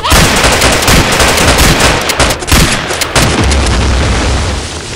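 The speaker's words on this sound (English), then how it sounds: "we better start shooting" Dense, loud gunfire and explosions from the zombie shooter game Dead Frontier, rapid overlapping shots and booms filling the whole stretch without pause.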